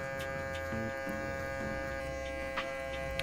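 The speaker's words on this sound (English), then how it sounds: "Now using my shaver." Electric foil shaver buzzing steadily at close range while a burst fade is being blended during a haircut, a continuous motor hum with brief shifts in tone as it moves over the head.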